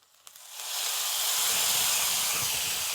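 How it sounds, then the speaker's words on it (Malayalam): Hot Kashmiri-chilli seasoning is poured into a Kerala-style pumpkin curry, a faint clink followed by a sudden loud hissing sizzle that swells and holds steady, close and alone. "ഇനി നമ്മുടെ കറിയിലേക്ക് ഇതങ്ങോട്ട് ഒഴിച്ചേക്കാം."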